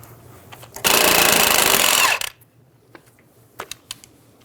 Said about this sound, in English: Using a 15mm socket, remove the nut for the tie rod end.